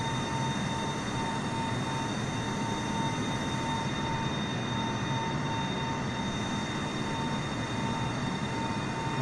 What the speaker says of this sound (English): 747 is now airborne.